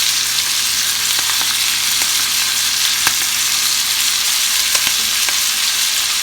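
Onion and garlic sizzle steadily in melted butter in a pan while pork chops are being made, a close, even frying hiss broken by occasional small pops and stirring clicks.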